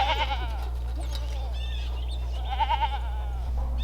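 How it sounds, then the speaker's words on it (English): Goats on a farm bleat in two quavering calls, one at the start and one near the end, close and fairly loud over a constant low machine hum. "So this goat right here"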